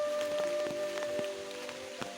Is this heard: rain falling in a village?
yes